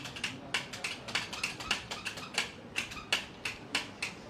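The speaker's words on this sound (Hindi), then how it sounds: "दोनों पंखों को ऑन ऑफ करें वहाँ से भी।" Wall switches for two ceiling fans are flicked on and off over and over, giving sharp, close clicks at a quick, fairly steady pace of about three per second with no talking.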